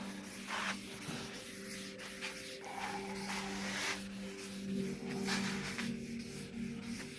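Graphite guide coat is sprayed from an aerosol can onto the hood bodywork of a 1986 Ford F-150, short hissing bursts repeating in an uneven rhythm over a low steady hum, quiet and close, with no talk.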